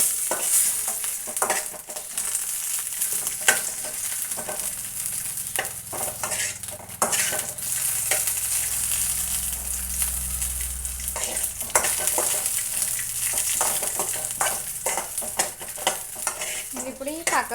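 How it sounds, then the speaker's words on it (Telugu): Green chillies fry in a pan with a steady bright sizzle, broken by repeated scrapes and stirring clatter from a utensil against the metal, sustained close up with no talking. "మంచిగా మగ్గినాయి చూడండి పచ్చిమిరపకాయలు."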